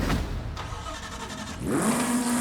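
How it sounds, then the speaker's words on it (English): In Forza Horizon 5, a car engine cranks, catches, then rises into a loud rev that holds as a steady high whine near the end. "let's start up the car."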